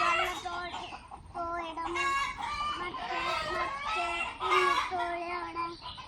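Large hens kept at a home in Kerala cluck and call in a run of drawn-out, rising squawks. The calls come close together at moderate volume, with a faint murmur of background noise beneath them.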